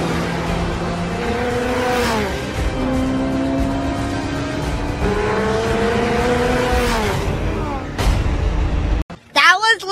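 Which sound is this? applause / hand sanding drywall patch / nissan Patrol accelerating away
nissan Patrol accelerating away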